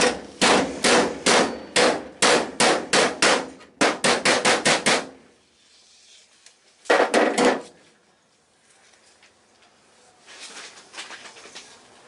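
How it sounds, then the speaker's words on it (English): A hammer strikes a steel body panel on a classic Rover Mini Cabriolet, dollying it back into shape in rapid bursts of sharp metallic blows, several quick series close up, then a pause and a final short flurry. "I wouldn't mind something a bit nicer than the hammer to dolly it back with."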